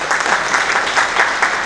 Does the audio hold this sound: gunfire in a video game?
no